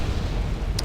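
PM-21 rocket artillery barrage in Wargame AirLand Battle, a continuous low rumbling roar of distant impacts filling the whole moment, with a brief sharp hiss near the end.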